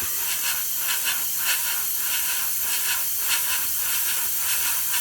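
An airbrush sprays Tamiya X7 paint thinned with self-leveling thinner onto the spinner of a 1/48 scale P-40N Warhawk model, a steady close hiss with faint pulsing as passes are built up, no talk.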